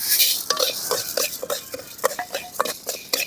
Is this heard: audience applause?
no